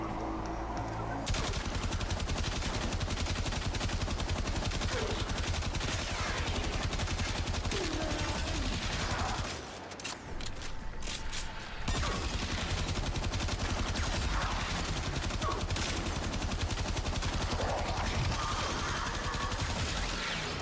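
Kuva weapons fire in Warframe, dense bursts of rapid automatic gunfire mixed with heavier shots and explosions, loud and nearly continuous with a brief lull midway.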